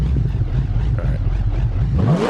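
A car engine running in BeamNG, a low, steady, uneven hum that rises into a revving whine near the end, moderately loud and close, with no talk over it.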